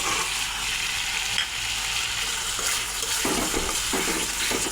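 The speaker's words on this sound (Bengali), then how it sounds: "পেঁয়াজের পাপড়িগুলো দিয়ে ভালো করে কষিয়ে নেব" Onion petals sizzle and fry in spice paste in a pan for a fish curry, a steady close hiss with a few louder scraping stirs toward the end.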